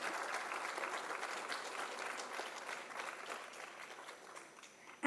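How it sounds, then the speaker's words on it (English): Steady, fairly quiet applause from a conference audience at a national periodontics society meeting, with dense clapping that continues evenly throughout and eases slightly near the end. "A big round of applause for Satpathy sir."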